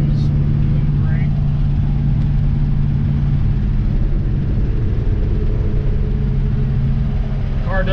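A 1966 Chevelle Malibu cruising at about 50 mph, its engine and road noise a steady, loud low drone that fills the whole stretch, with a couple of faint chirps on top.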